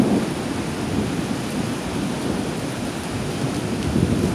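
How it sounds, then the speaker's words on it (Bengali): During Cyclone Amphan in May 2020, a severe storm drives dense, constant rain with low rumbling underneath, a loud, unbroken wash of sound with no speech. "প্রচন্ড ঝড় বৃষ্টি।"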